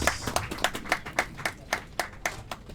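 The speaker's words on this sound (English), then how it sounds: "Let's give him another round of applause." Applause from the audience at a regional NGO expo and winter school, a steady run of sharp hand claps at a moderate distance, fairly thin rather than a dense ovation, with no talk over it.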